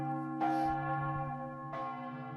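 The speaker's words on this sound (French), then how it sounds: "Comme en témoignent les cloches." Church bells ring out across Laval at nightfall. Two clear strikes land about a second and a half apart, each leaving a long resonant hum that carries underneath.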